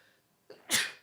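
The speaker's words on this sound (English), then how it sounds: "I'm just going to sneeze." A woman gives a single sharp sneeze indoors while quilting, preceded by a quick intake of breath, loud and close in an otherwise quiet room.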